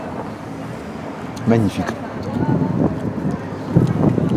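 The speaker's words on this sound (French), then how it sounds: "Il y a un petit vent là" Wind gusting across a microphone at an outdoor spot in Paris where noodles and beef are being eaten, a steady low rumble that swells in the second half beneath a voice.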